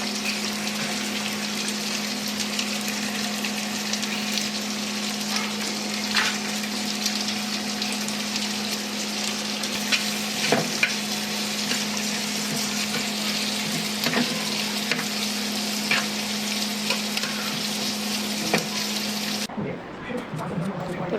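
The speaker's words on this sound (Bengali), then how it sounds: "তো রসুন পেঁয়াজগুলো ভাজতে দিয়ে" Garlic, onions and green chilies fry in a pan for a mashed bhorta, making a constant sizzle with small crackles over a steady low hum until it cuts off near the end.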